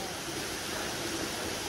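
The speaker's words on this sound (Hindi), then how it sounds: "प्रकृति का झरना" A mountain waterfall beside the trekking route to Kedarnath gives a loud, steady rushing roar of falling water, continuous and close with no pauses.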